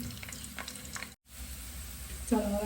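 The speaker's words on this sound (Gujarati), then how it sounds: "હવે આપણે તેલ આપણું ગરમ થઈ ગયું છે એમાં આપણે લસણ નાખી દઈશું" Garlic dropped into hot oil for a Kathiyawadi baingan oro, crackling with a steady frying sizzle, a brief gap, then a louder burst of sizzling near the end.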